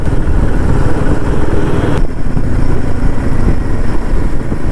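A Royal Enfield Himalayan 450 motorcycle rides through city traffic in fourth gear at about 40 km/h, its engine a loud, close, steady drone with no one speaking.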